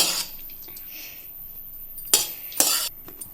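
Paniyaram batter with cooled sautéed onions stirred in a bowl, soft scraping and a couple of sharp clinks of a spoon against the vessel, close and fairly quiet with mostly still gaps.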